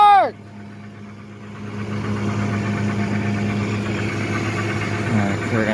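A tow truck's engine idles in park with a steady, close, low rumble and a faint vibrating hum that runs unbroken through the whole stretch, after a short shifting noise at the start.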